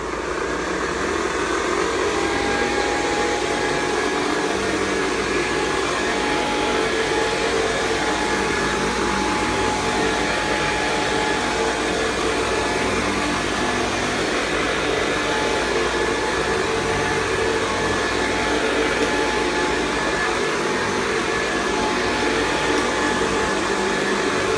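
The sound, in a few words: 1969 Hoover Convertible model 1070 vacuum cleaner running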